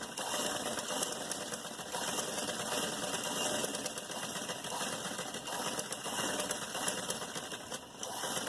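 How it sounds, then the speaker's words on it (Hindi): A sewing machine hums and clatters continuously while stitching the cuff of a salwar, a steady close mechanical drone with no breaks and no voices. "अब हम यहाँ पे इसको बिठाने के लिए सिलाई लगाएंगे।"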